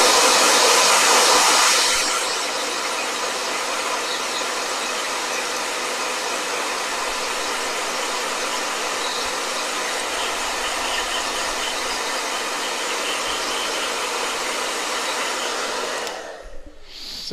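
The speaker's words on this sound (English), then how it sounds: "Blow dryer. That's what it is." A hair dryer blows steadily and loudly at close range for the whole stretch, a continuous rushing hiss that starts with a brief stronger burst and cuts off near the end, with no talking over it.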